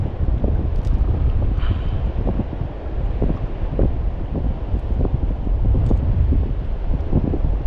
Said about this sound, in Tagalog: Gawa ng ganyan kalakas ang hangin.